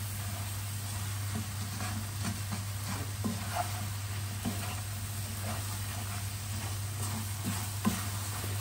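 Apple, caster sugar and spices sizzle steadily in a pan for a spiced apple walnut cake, with a constant frying hiss broken by soft scraping stirs; no voices.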